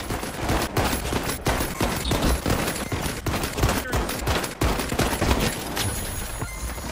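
Double-barrel shotgun blasts from the shooter game The Finals crack out in rapid, loud, sharp bursts through a constant barrage of in-game gunfire.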